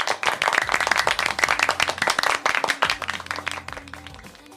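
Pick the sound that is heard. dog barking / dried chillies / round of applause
round of applause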